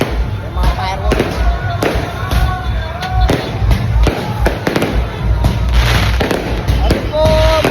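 Fireworks bursting repeatedly, sharp cracks and pops in quick irregular succession, loud and close, with voices talking underneath.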